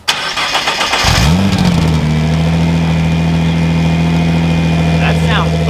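A Nissan GTR fitted with an AAM active exhaust in stock mode starts with a loud crank and catch, then settles into a steady, close, rumbling idle.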